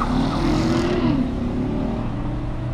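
Mitsubishi Colt GTI racing a Chevrolet, with a loud, steady engine roar under acceleration and a rising-then-falling tone as the car pulls hard, close and continuous with no voices.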